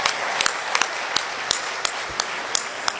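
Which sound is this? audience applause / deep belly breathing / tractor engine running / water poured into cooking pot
audience applause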